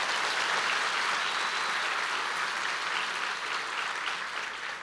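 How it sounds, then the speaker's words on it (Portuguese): A church congregation at a Wednesday service claps for Jesus, a broad, steady roar of many hands that holds for several seconds and tapers slightly at the end, with no talking over it. "Pode dar uma salva de palmas a Jesus,"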